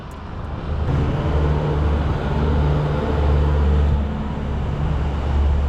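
Steady roar of motorbike and car traffic on a road in Uluwatu, Bali, with engines droning continuously and swelling slightly louder after the first second, no voices.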